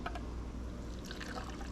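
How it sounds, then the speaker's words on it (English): Cocktail poured into a mug packed with cracked ice, a steady liquid trickle and splash close by, continuous and fairly soft, with no talking. "Give it a pour."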